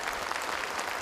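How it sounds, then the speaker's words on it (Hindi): Steady applause from an audience at a Kamuna Srijan 2014 awards event for an employee being honoured, a dense, even wash of clapping heard briefly and at moderate level. "ऐसे शख्स के लिए जोरदार तालियों की अपील है।"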